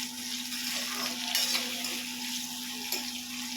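Tomatoes, cashews and almonds frying in a kadhai give a soft, steady sizzle with occasional stirring scrapes, heard faintly and close with no voices.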